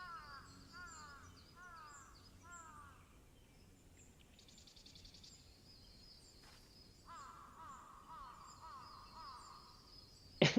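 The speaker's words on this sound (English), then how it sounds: "you hear the bird calling in the background" A bird calls repeatedly in the background of a fantasy game scene, short chirping phrases early on and later sustained tones over a quiet ambient bed, with a sharp burst at the very end.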